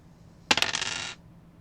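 Dice are rolled during a tabletop game, giving a short burst of quick clattering clicks and bounces that lasts about half a second. The sound is close and crisp over quiet room tone, with no talk.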